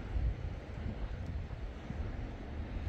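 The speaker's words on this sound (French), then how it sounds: "Et ici, il y a pas mal de vent et la pluie commence à tomber." Strong wind buffets the microphone at a campsite in Sangatte during a storm, a continuous low roaring rush with no voices.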